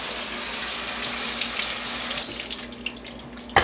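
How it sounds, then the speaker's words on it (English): Blueberries being rinsed under a running sink tap, giving a steady close-up rush of water that thins and spatters toward the end, with no voices. "get your blueberries, rinse them real good in the sink, get them nice and clean."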